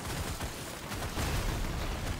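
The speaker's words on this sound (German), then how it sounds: "Schöne Explosion." Explosions and weapon fire from the video game Deep Rock Galactic Survivor, a dense, steady barrage of booms and crackling blasts that stays loud across the whole moment with no talking.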